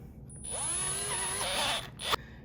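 A poorly working electric drill whirs for about a second and a half, its pitch rising as it spins up, then stops with a brief click.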